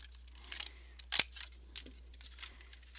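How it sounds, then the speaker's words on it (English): Scissors trim the edge of a sturdy plate for a woven bowl, giving several short crisp snips close to the microphone, one sharp loud cut in the middle and softer cuts around it. "I have to do a little bit more trimming on maybe this one."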